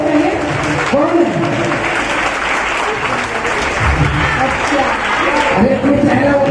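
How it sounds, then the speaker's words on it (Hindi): A large crowd at a Jain religious ceremony applauds loudly and continuously, with voices speaking and calling out over the clapping throughout. "जोरदार तालियां इनके लिए खड़े होते हैं।"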